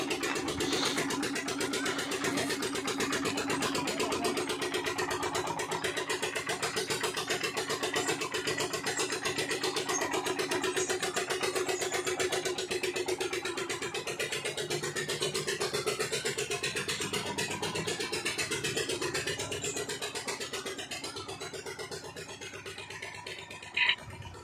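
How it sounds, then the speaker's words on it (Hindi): A diesel Peter engine runs steadily, driving a saw for wood cutting, with a continuous loud mechanical drone and buzzing overtones throughout that eases slightly near the end, with no talk. "तो पीटर इंजन ये डीजल पे चलता है, तो इसी के ऊपर वो आरा जो चल रहा है"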